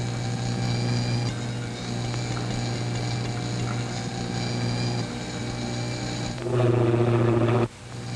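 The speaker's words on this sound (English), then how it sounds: "The plane should be practically overhead." Airplane motors of a 1939-era aircraft droning steadily overhead, a loud continuous propeller hum with a strong low tone that swells louder near the end as the plane passes.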